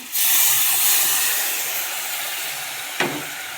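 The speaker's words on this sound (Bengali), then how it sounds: "এবার ওইটা আমি একটু দুধটাকে ঢেলে দেব, যে দুধটাকে ফুটিয়ে নিয়েছিলাম" Boiled milk poured into a sizzling pan of tomato-spice masala for egg kalia: a sudden loud hiss and bubbling sizzle that slowly softens, with a small clink near the end.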